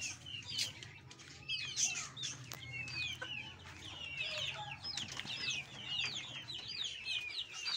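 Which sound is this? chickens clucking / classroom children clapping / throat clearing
chickens clucking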